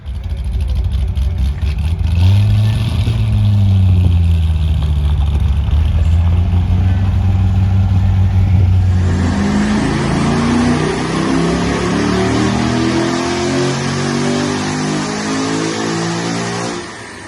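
A Corvette C6 Z06 with LS7 heads runs on a dyno, its V8 engine droning loud and steady, then climbing in a long sustained rev sweep through the gears, close and alone without talk.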